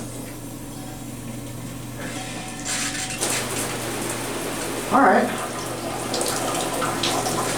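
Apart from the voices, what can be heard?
hotel shower running, water pressure test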